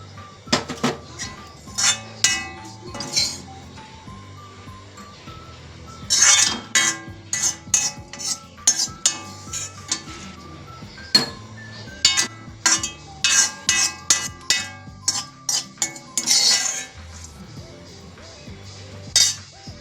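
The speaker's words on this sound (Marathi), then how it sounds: "हे आता आपण डिशमध्ये काढून घेणार आहोत" Roasted wheat flour for laddoos is scooped out of a pan into a dish: irregular, close metallic scrapes and sharp clinks of a spoon against the pan, coming in quick bursts with short pauses and no talking.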